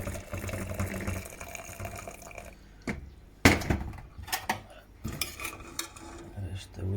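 Water poured over tiger nut bait in a kitchen, with splashing and clinking of a pot and utensils, a few sharp knocks partway through, close and moderately loud.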